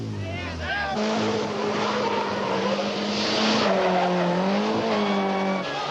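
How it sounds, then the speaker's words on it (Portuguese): Modified, souped-up cars spin through 360-degree doughnuts at a Brazilian street race, a loud continuous engine roar and squealing tyres with shifting pitch, with voices and crowd noise mixed in. "A essência do pega é uma exibição de cavalo de pau, a virada de 360 graus."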